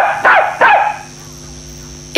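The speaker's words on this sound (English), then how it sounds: "It's a dog." A dog barks twice in quick succession, loud and close, followed by a brief quiet gap.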